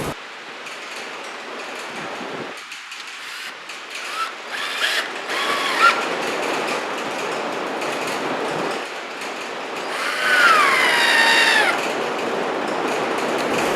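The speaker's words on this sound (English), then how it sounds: "now all we have to do is screw everything together" Oak table parts of 3/4 inch oak plywood being screwed together, with loud, close whirring and ratcheting from a driver in bursts, mixed with rattling clatter, with no talk.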